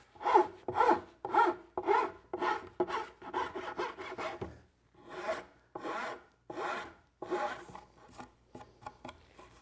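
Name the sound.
file smoothing wooden edges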